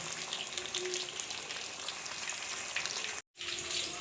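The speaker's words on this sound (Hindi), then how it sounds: "हल्की आंच पे इसको पकाना है ताकि ये अंदर से भी अच्छी तरह पक जाए।" Fish fries in oil over a low flame with a soft, constant crackling sizzle that cuts out briefly near the end, then resumes. No one speaks.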